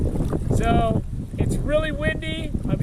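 Strong wind gusts across a lake, a continuous low roar buffeting the microphone throughout, with a few wavering tonal calls rising over it in the middle and latter part.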